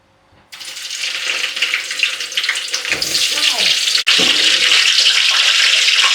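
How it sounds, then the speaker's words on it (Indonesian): Cassava pieces hit hot oil, setting off a loud, steady hiss of frying that starts suddenly and carries on unbroken, with a brief break and a clatter partway through. "Mau kita goreng dulu. Sudah panasin minyak di sebelah."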